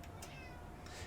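A short cat meow sounds from a video store simulator game, faint and brief over a steady background hum.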